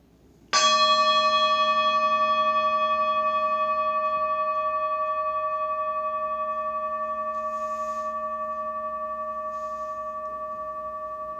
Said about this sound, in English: I'm going to sound the bell and I'll begin the meditation practice.